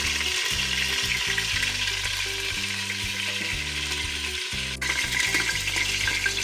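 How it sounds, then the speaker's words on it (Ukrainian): Loud, steady sizzling of chicken thighs frying hard in a pan over high heat, lid ajar, a continuous crackle that never lets up, with no voices. "І смажиться і найбільшому вогню."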